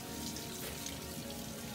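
Water runs steadily from a salon basin sprayer while hair is rinsed during a shampoo service, a constant close hiss with no talking.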